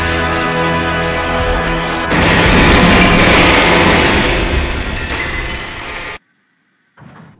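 Toy-style engine crash in the Trainz simulator on wet rails near a barn, a loud sustained rumbling roar of rolling stock that swells into a heavier crashing surge, then cuts abruptly to near silence with a brief faint tail.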